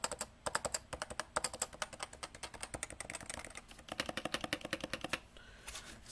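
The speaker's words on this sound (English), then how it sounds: "That is definitely Topre switches." A Cooler Master CMStorm Novatouch TKL keyboard with Topre switches being typed on, brisk runs of muted, even keystrokes with a short pause near the end and no talking.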